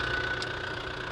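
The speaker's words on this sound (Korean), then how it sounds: "엔진 시동을 걸었어요. 한번 엔진 소리 들어보시고요." The 2900cc engine of a used Kia New Carnival Limousine idles just after starting, giving a steady, even low hum with a faint high whine and no talking.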